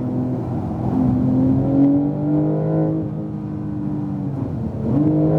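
A Porsche 911 Turbo S engine pulls steadily on a track, its tone climbing loud and close as the car accelerates toward a braking point, with a brief dip and renewed surge near the end.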